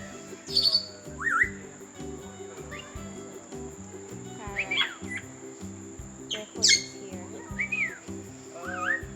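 Parrots at a zoo call in a series of sharp chirps and squawks over a steady background hum and rhythmic low thumping, the calls moderately near and intermittent.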